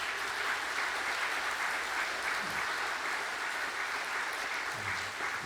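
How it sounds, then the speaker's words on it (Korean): A church congregation claps in sustained, dense applause through the whole stretch at Sunday worship, steady and even without any talk over it. "거기까지 좀 소리가 들리도록 박수를 좀."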